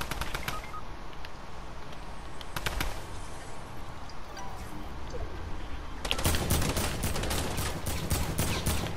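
Video game gunfire from a new gun, with a few sharp shots early on, then a dense rapid burst of loud automatic fire in the last few seconds over a steady background hiss.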